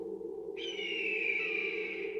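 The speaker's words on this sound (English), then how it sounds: "We can hear the hawks." In a radio drama, a hawk gives a single long, thin, high cry that begins partway through and holds steady over a low background drone.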